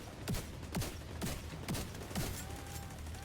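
Turret gunfire in the video game The Division: a steady run of sharp shots, roughly two per second, at moderate level over constant battle noise.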